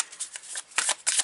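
Tarot cards are briskly shuffled and drawn at close range, producing a quick riffling flutter with papery snaps and a short burst of shuffling near the end, without any talking.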